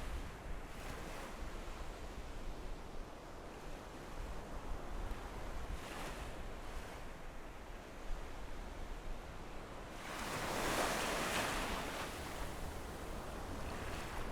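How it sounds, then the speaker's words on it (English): Ocean waves breaking on a shore, a continuous broad roar with surges swelling and falling, one long heavy wash building late, wind buffeting the microphone, no voices. "This is the place where the ocean goes to war with itself."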